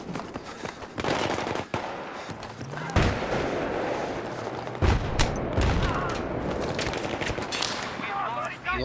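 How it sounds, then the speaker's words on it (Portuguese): Rapid machine gun bursts and scattered gunfire crackle steadily in Battlefield 3 multiplayer on the Strike at Karkand map, dense and loud throughout with sharper blasts near three and five seconds. "os caras atiram de longe"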